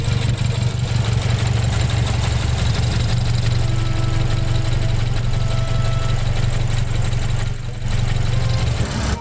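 A BMW N55 engine idles with a loud, steady, close-up drone that barely changes, dipping only briefly before returning to the same even rumble.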